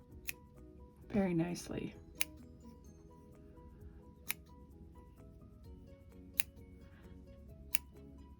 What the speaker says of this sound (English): I'll just snip a couple of pieces of yarn